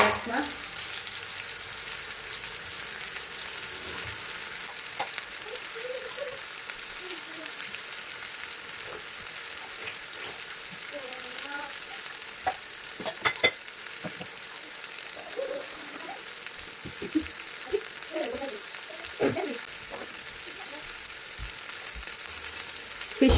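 Masala-coated mackerel fish frying in a pan, a steady, moderately loud crackling sizzle that runs throughout with scattered pops and an occasional scrape, no voices heard.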